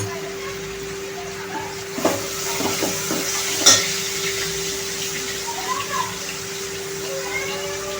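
Flat beans stir-fry in a pan with a soft, steady sizzle under a constant low hum. A few spatula knocks and scrapes stand out near the middle.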